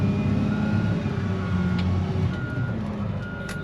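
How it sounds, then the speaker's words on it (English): LiuGong wheel loader reversing, its backup alarm beeping steadily over the low rumble of the diesel engine, loud and close throughout. "Send her into reverse."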